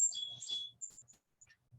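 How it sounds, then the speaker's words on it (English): Faint bird chirps come through in a quiet setting as a few thin, high tweets, some short and some slightly drawn out, heard at a distance over near-silence. "You may hear the birds chirping."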